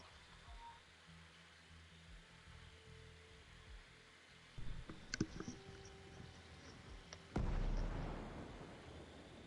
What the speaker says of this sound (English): Explosion. Northwest bound.